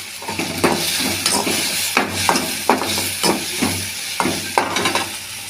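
Garlic and tamarind sauté in a pan for a peanut chutney: a steady close sizzle and hiss with repeated scraping stirs of a spoon, loud and alone.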